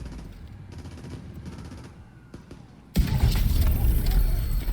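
Sniper rifle fire in The Division 2: a low, steady rumble of combat ambience, then an abrupt jump to loud, sustained broadband gunfire from midway onward.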